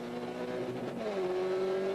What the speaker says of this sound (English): Right on the rev cutout, that's that slight miss at the top in Sugden's car.